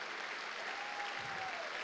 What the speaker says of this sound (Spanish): Dele fuerte ese aplauso al Dios de la gloria.